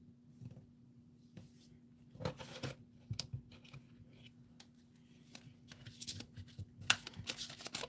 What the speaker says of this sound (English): I'll go ahead and pull a card for you if you want.